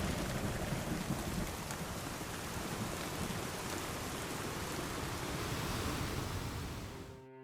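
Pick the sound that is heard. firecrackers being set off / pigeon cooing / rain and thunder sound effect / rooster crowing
rain and thunder sound effect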